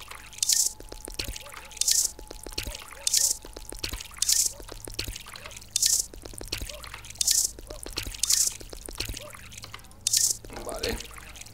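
Water being drunk in the video game Drug Dealer Simulator, heard as repeated rhythmic gulping and dripping sounds at regular intervals, moderately loud, with no talking.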